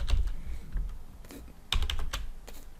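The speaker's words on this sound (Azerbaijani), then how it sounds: "Deməli, Shift Enter klik edirik" Keys clack on a computer keyboard as Shift and Enter are pressed, with a few sharp, close taps and a heavier thump of keystrokes amid light typing.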